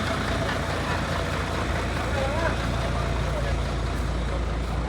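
A six-wheel truck engine idles and rumbles steadily at a Mukdahan roadside event, a continuous low drone mixed with crowd noise and voices talking nearby.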